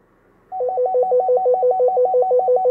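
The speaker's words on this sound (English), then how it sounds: "hit this call button, they're going to hear the call" Cobra walkie-talkie call button tone: a loud electronic warble rapidly alternating between two pitches, starting abruptly and repeating steadily alone.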